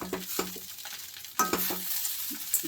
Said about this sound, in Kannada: ಜೋರಾಗಿ ಸಿಮ್ ಇಡಬಾರ್ದು, ಜೋರಾಗಿ ಫ್ಲೇಮ್ ಬರಬಾರ್ದು, ಸಿಮ್ಮಲ್ಲೇ ಫ್ರೈ ಮಾಡಬೇಕು.